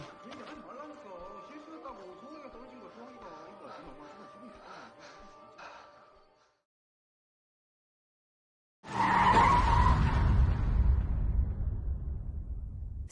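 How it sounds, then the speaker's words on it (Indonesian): A car strikes a man just outside a police station in a Korean thriller drama. After talk and a brief silence, a sudden loud, broadband crash bursts in and slowly fades. "Saat ini, pria tersebut tertabrak mobil tepat di luar kantor polisi."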